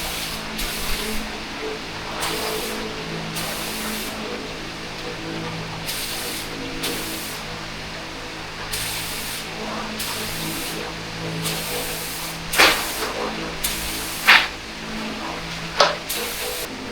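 A spray gun at low pressure lays a paint coat over a small patch of a VT Commodore's battery tray area, heard as repeated short bursts of steady hiss with pauses between, and a few sharp clicks near the end.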